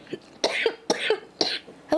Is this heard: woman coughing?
yes